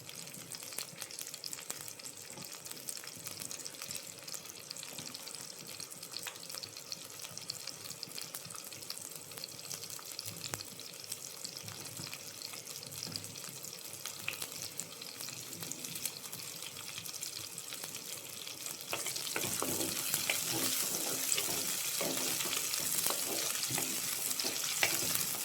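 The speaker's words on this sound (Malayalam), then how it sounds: "2 പച്ചമുളക്, ഇത്രയും നമ്മൾ എണ്ണയിലേക്ക് ഇടുന്നു." Green chillies, garlic and curry leaves fry in hot oil in a pan for an Easter fish curry. A steady sizzle runs throughout and grows louder and brighter near the end as the pan is stirred.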